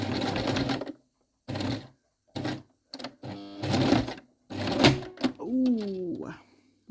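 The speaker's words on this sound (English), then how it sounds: "So I'll just do a couple of stitches, some back tacks" An electric sewing machine runs back tacks across a coat welt pocket in several short stitching bursts separated by pauses, ending with a brief voice.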